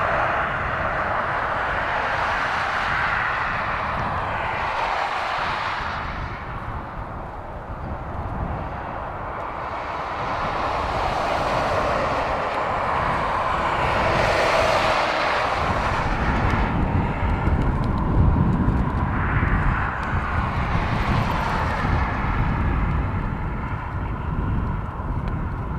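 A jet airliner landing in a gusty crosswind at Dublin Airport, a broad rushing engine roar that swells and fades in waves, heavily buffeted by wind noise on the microphone, with no talk.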